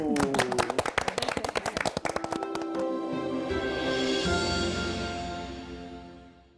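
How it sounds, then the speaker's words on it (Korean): Studio audience claps in a short burst at the start of a book-review broadcast's first show of 2019, sharp hand claps over the first couple of seconds fading into musical jingle and ambient studio tone. "박수"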